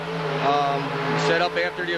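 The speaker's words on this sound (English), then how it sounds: "we had to wait a minute while that race cars are revving up back there" Race car engines rev and roar with rising and falling whines behind the grandstand at the 1987 Minnesota State Fair, loud and sustained while someone talks over the noise.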